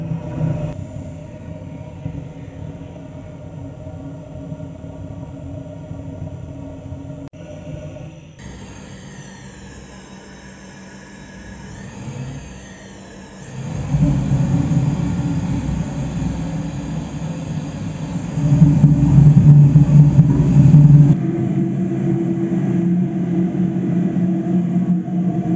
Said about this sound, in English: Then I turned on the heating torch, which was fired using natural gas.